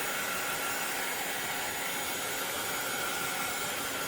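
A heat tool blows hot air to heat-set chalk paint on a fall banner, making a steady, even whooshing hiss like a hair dryer that stays constant from start to finish, close up and without speech.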